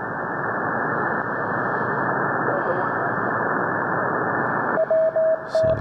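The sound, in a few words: Morse code on shortwave radio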